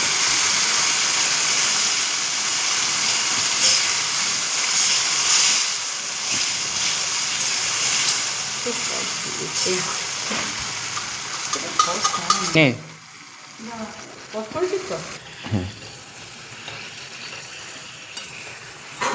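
Pineapple chicken sauce sizzles and bubbles steadily in a pan over a low gas flame, a loud continuous fry that thins out after a few seconds into softer pops and spoon stirs.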